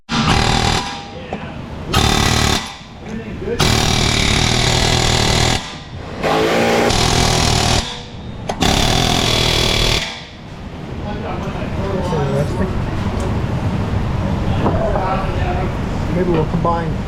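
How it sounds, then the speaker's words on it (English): An air hammer works a rusted stud in loud, close bursts of harsh rapid hammering, several separate blasts with short pauses between, followed by quieter shop noise as someone talks. "Air hammer time."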